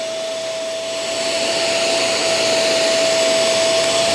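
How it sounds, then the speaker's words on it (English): Steady, loud motor whine and suction of a Hoover carpet spot cleaner pulling ketchup from carpet, a continuous drone with a high tonal hum that holds unbroken throughout, no voices. "Now the Hoover does have a little bit more suction."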